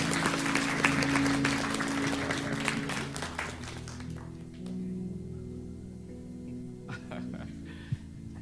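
A church congregation at Sunday worship breaks into warm applause, loud and continuous for about four seconds before fading into quiet room sound with a few stray claps.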